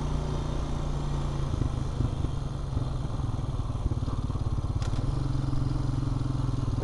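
A Honda Rancher four-wheeler ATV fitted with a new digital speedometer is ridden with its engine running steadily throughout. The close, continuous motor rumble shifts slightly in pitch as the machine moves.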